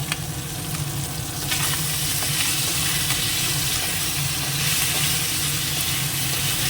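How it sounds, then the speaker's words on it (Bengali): Masala cooks in a pan with Kashmiri red chilli powder added, giving a steady loud sizzle and frying hiss with faint stirring and no talk. "অনেকটা কষানো হয়ে গেছে একটুখানি কাশ্মীরি রেড চিলি পাউডারটা দিয়ে দিলাম"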